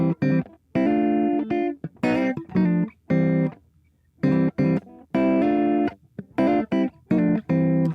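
Electric guitar plays chords, each reached by a half-step slide from above or below, in short strummed bursts separated by brief gaps, loud and distorted with no talking.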